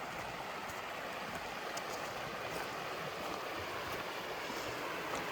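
The White River in Arizona runs in late fall, a steady broadband rush of flowing water that stays even and continuous throughout, with no voices.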